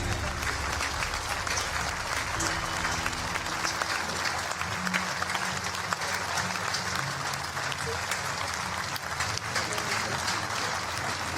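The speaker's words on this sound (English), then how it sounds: "Ladies and gentlemen, please give a warm round of applause to our athletes." Audience applause for recurve archers at a Hyundai Archery World Cup medal ceremony in Berlin, a long, unbroken roar of clapping from a large crowd with a faint low hum beneath it.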